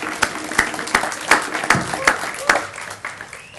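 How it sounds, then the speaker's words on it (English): A small audience at a Juneteenth ceremony claps in a round of applause for Christina, sharp individual claps in loose bursts at moderate distance, fairly sparse and thinning toward the end. "could we give a round of applause for Christina?"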